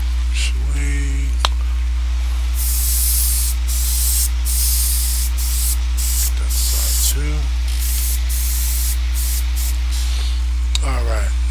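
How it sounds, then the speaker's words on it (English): Bursts of spray from an aerosol can of primer coating a model, several hissing blasts of a few seconds each separated by short pauses, close and loud over a steady electrical hum, with someone speaking briefly between sprays. "I'm going to spray a little bit of primer on this, on the red area"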